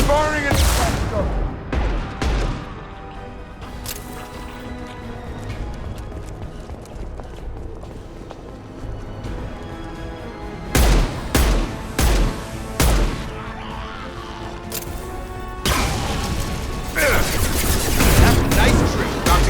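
Gunfire in the Mass Effect game fires at a platform in loud, repeated bursts that rise above a steady busy backdrop of game noise and music.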